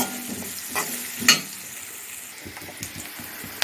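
Onions sauté in a pan for a vegetable kuzhambu, a steady close sizzle broken by scraping stirs and a sharp clink of the spoon against the pan.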